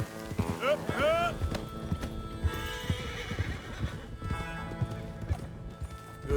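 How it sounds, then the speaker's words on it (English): Horses' hooves clip-clop at a trot, close and quick, with a horse neighing near the start and people calling out to the animals throughout. "Come on, horses!"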